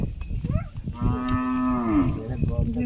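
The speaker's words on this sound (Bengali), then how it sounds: "গরু আছে ওইখানে" A cow gives one long, drawn-out moo close by, seen while passing through a Bangladeshi village market, with light background noise before and after the call.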